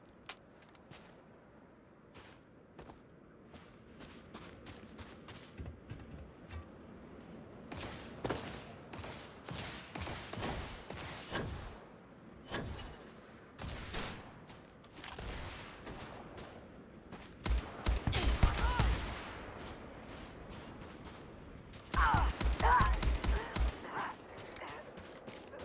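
Gunfire rings out in Starfield combat, bursts of sharp shots and rapid automatic volleys coming in clusters, loudest near the end, with someone talking between them.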